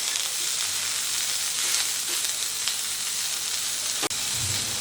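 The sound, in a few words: broccoli frying with turmeric and salt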